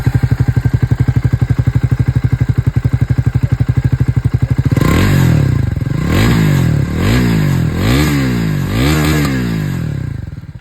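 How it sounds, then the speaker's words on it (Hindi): A Triumph Speed 400 MY25 motorcycle idles with a steady, rapid exhaust thump, then revs up hard several times in a row, each rise loud and close before falling back. "तो ये दोस्तों आप लोगों ने यहाँ पर एग्जॉस्ट साउंड सुन लिया है ऑफ स्पीड 400।"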